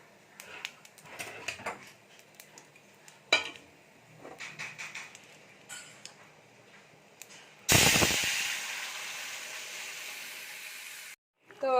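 A ridge gourd and potato vegetable curry with spices is poured into a hot pan, bursting into a loud, sustained hissing sizzle after some earlier clatter of pots and utensils.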